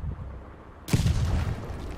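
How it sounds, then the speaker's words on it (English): Artillery fires in the War Thunder tank game, one sudden loud boom after a quiet stretch, followed by a rumbling decay and low battlefield noise. "Artillery, we're going to chance it."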